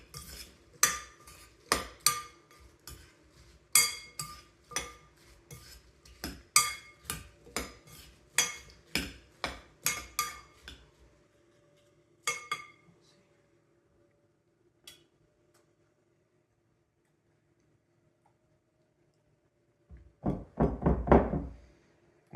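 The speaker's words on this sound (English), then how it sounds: "I really should have stirred that with a different spoon." A spoon clinks and knocks against a dish while stirring cranberry Jell-O salad, a steady series of sharp taps that stops, followed after a quiet stretch by a brief clattering scrape.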